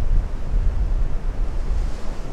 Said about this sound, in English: There's a few waves breaking, so I'm going to hang back for a second.